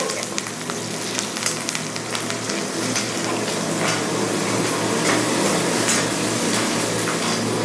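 Green chili, shallots and curry leaves fry in a pan for mushroom pepper gravy, giving a continuous dense sizzle and crackle up close with occasional light clinks of a utensil.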